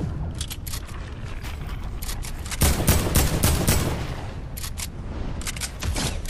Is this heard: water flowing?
no